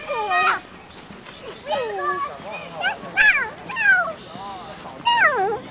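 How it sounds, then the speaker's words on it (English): A baby cat gives a string of short, high, rising-and-falling meows close by, repeated about seven times in quick succession, with children's voices faintly mixed in. "They love my baby cat."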